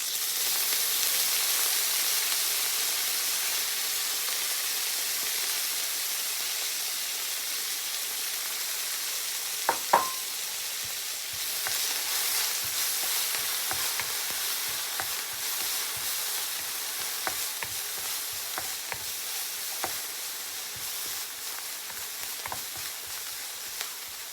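Washed dried prawns fry in a pan with a continuous hissing sizzle, punctuated by occasional sharp clinks and scrapes of stirring, close up and without speech.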